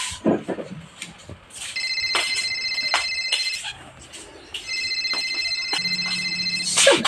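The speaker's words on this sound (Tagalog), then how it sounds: "Tanawag ng cellphone nga niya eh." A cellphone rings with a repeating electronic melodic tone in two long bursts separated by a pause, amid background room noise and scattered knocks, with a voice briefly audible.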